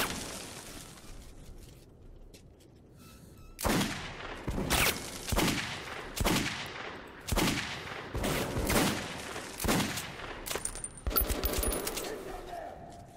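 Bursts of gunfire in the Metro 2033 Redux video game, with roughly eight loud, sharp shots spaced about a second apart, then a rapid clattering volley near the end, all without speech.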